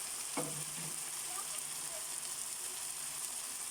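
Squid sizzles and fries in a pan for sautéed squid with pechay, a soft, steady crackle at low volume with a brief clank of utensils near the start.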